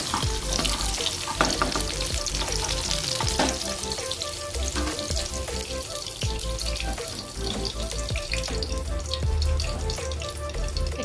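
Vegetables fry in hot oil, a dense, continuous sizzle with occasional stirring clinks, close and fairly loud throughout with no voices.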